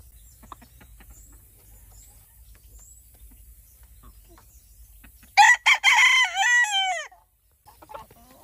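On a hot August day, a chicken crows once, loud and close, in a short burst after several seconds of quiet outdoor background.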